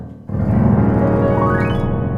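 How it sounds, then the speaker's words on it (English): A piano glissando sweeps upward across the keys in a fast, smooth run, over a full sustained wash of ringing notes. "You could do a glissando up or towards the right like that."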